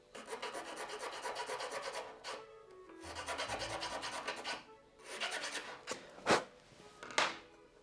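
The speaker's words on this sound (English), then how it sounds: "Some more filing in here." Steady hand filing on a small part for an ESP32-C6 Zigbee remote controller, close-up rasping in continuous strokes with brief pauses, the last few strokes sharper and louder.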